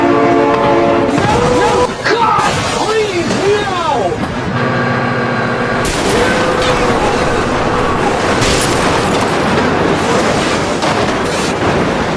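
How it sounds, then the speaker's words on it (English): A train thunders past in the BeamNG.drive driving game, its horn blaring in long sustained blasts over the loud, continuous roar of the passing cars, with game engine noise underneath. "Oh my god, train!"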